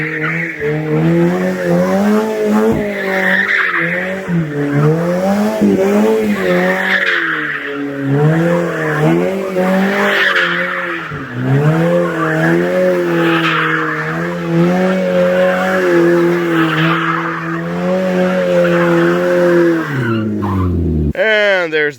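A car doing a burnout roars with harmonic engine tones that rise and fall in repeated revs, tires squealing and skidding loudly and close for the whole stretch before it cuts off abruptly.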